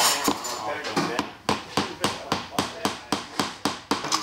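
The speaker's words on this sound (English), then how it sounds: "I'm going to put a second brad in each joint." Small brads are hammered into the glued joints of a wooden condiment caddy, a dozen or so sharp, close taps in a steady rhythm that quickens slightly toward the end.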